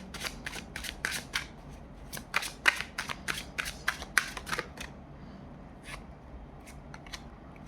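A deck of tarot cards is shuffled by hand close by: a quick run of crisp snapping and riffling bursts, then slower scattered flicks as the shuffling winds down.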